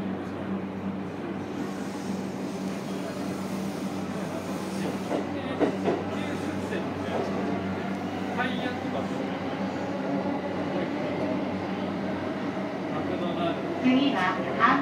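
Steady rumble of a JR East Yamanote Line outer-loop train heard from inside the carriage as it approaches Kanda, with a constant low drone, faint clatter and occasional squeaks throughout.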